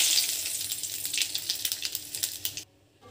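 Whole cumin, dry chili and bay leaf sizzle in hot mustard oil: a bright, crackling fry with popping spatters that runs steadily, then cuts off abruptly near the end.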